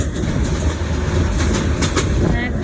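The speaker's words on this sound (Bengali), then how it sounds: "আমাদের ট্রেন আসছে" A train rolls into a station with loud, steady rumble and rhythmic clickety-clack of wagon wheels, close and continuous.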